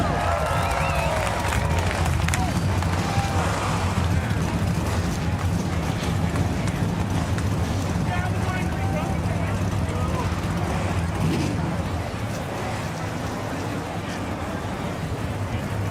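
NASCAR Camping World Truck Series engines fire up and idle together at Watkins Glen, a steady low rumble of many motors with crowd noise and a commentator talking over them.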